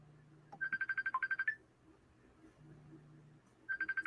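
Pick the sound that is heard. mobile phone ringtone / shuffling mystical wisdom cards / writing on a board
mobile phone ringtone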